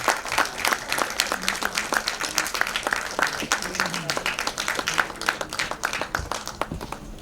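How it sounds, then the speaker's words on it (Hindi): Loud audience applause welcoming a film lyricist onto the stage at a release event, crisp rhythmic clapping from a sizable crowd, steady and near throughout. "जोरदार तालियों के साथ उन्हें स्टेज पर बुलाएं"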